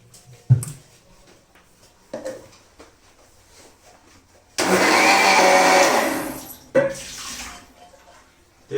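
Homemade mayonnaise with soybean oil whirring in a blender, one loud continuous burst of about two seconds between short knocks and handling noises.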